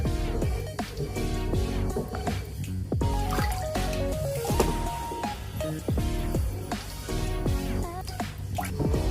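Coffee-flavored jelly mixture for buko pandan goes into a mold with close, wet dripping and squishing plops in an uneven run, with no speech.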